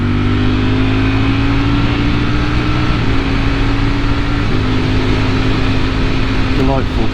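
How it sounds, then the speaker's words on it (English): Ducati V4 motorcycle engine holding a steady loud drone with rising and falling rev tones, ending in a quick blip as the auto-rev system matches revs on a downshift, heard up close while riding with strong wind rush. "You get the auto rev on the downshift, and it's just super slick at pretty much any revs, any gear."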